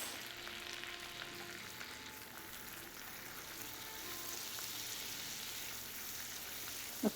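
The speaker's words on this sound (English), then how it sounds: "We add the brown sugar to the butter. We'll let it caramelize." Butter and brown sugar cook in a pan as the sugar melts into caramel, giving a steady, soft, close sizzle that runs evenly throughout with no talking.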